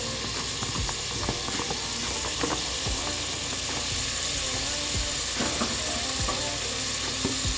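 Peppers, tomato and olives sizzle and fry in a pot of caponata, a steady close crackle with occasional clinks of stirring.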